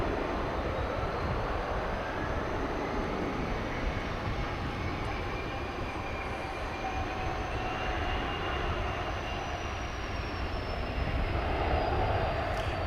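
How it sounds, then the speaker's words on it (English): Jet airliners at DFW Airport, a continuous loud engine roar with rising and falling whine as planes take off and land, sustained throughout with no talk. "where we either get a truckload of planes taking off and landing at the same time"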